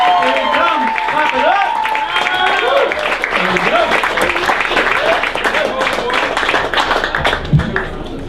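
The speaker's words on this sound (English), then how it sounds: "Guys, clap it up right now." Comedy club audience applauding as comedian Calvin Henderson takes the stage, sustained clapping and cheering close by with a host's voice talking over it.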